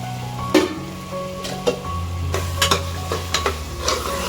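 Onions frying in oil in a pan for Bangalore-style mushroom donne biryani, with a steady soft sizzle and several sharp scrape-and-stir clinks of a spoon against the pan, close and alone.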